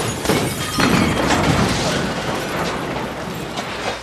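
A van packed with homemade C4 blows up in the comedy film MacGruber, giving a loud, roaring blast with crashing, rumbling debris that fills the few seconds and then slowly eases off.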